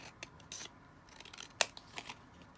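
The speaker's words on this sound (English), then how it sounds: "So I'm just going to cut this end off, cut this piece here." Scissors snipping paper pieces for a junk journal, a few sharp separate cuts spaced across a quiet room, close by with one louder crisp snip in the middle.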